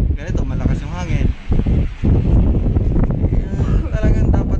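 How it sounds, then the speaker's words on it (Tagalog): Strong wind buffeting the microphone during an outdoor interview, a steady low roar running under continuous talking throughout. "malakas yung hangin."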